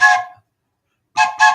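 A human voice imitates a train whistle: one short, tooting blast, a pause, then two quick blasts, close and clear.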